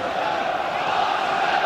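Dense football stadium crowd at a 1999 Premier League match against Arsenal, a steady, loud roar of many voices with no break, sounding agitated and hostile.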